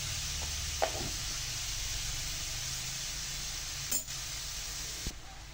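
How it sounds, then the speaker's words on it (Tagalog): Pork sautéing in a pan gives off a steady, broadband sizzle, with a few light knocks and scrapes of a utensil against the pan. "Igisa muna natin yan maigi."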